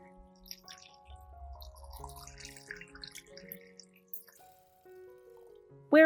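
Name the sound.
rinsing tangerine peels under water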